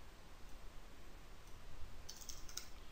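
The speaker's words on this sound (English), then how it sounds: "if you just type MongoD and hit enter" A command is typed on a computer keyboard, heard as a few faint, quick key clicks late in a quiet stretch over low background hiss.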